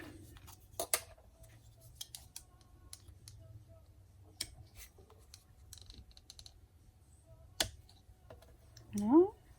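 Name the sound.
scissors cutting paper for a mini album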